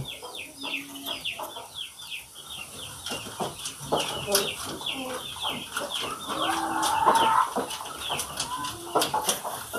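Chickens of a stiff-tailed Ayam Ekor Lidi breed cluck and chatter nearby, a busy mix of short calls and squawks, with a voice speaking intermittently underneath.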